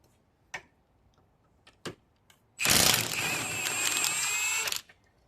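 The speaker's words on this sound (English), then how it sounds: "Now I'm going to loosen the 2 bolts, and they're also 17s." Impact or power tool loosening 17 mm bolts on the rear hub assembly of a 2008 Toyota RAV4 4WD, a few sharp clicks followed by one loud, whirring burst of about two seconds, close and alone.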